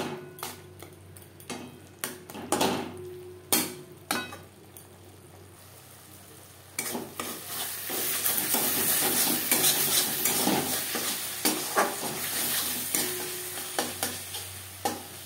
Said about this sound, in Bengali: লবণ হলুদ মশলার সাথে বেশ ভালো করে মিক্সড করে দেব।